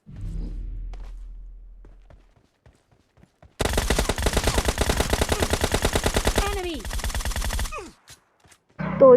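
Gunfire in the video game PUBG: a long rapid automatic burst of loud, evenly spaced shots lasting several seconds, following a few scattered thuds and quiet moments, with a voice briefly heard at the start and end.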